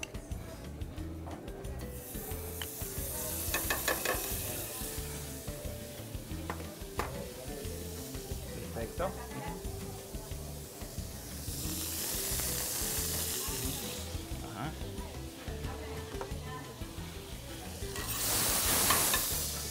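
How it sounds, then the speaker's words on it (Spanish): Bacon fries in a pan with butter and olive oil, a continuous crackling sizzle that swells and fades in waves, with occasional scrapes and clicks of a utensil moving the pieces. "Y ahí vamos a sofreír nuestra tocineta"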